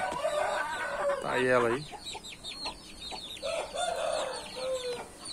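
A rooster and a young hen laying her first eggs cluck and call nearby in a farmyard, with one louder drawn-out squawk early on, while someone speaks over them.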